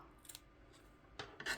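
Scissors snip off string for a stenciled Christmas craft sign, giving a few faint, quick cuts and rasps close by in a quiet room, with no talking.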